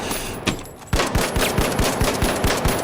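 Automatic gunfire in a video game, heard as a rapid steady burst of close, sharp shots after a brief pause and a single shot, running to the end.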